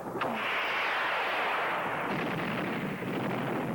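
Rockets fired from an aircraft in a 1980 film set in snowy mountains, a loud sustained roaring blast with a sharp onset and a long rushing tail, with no voices.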